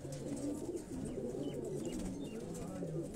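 Slim flying pigeons coo softly from a rooftop loft in Jalalpur Bhattian, low repeated murmuring calls at a distance, faint and continuous with light background noise.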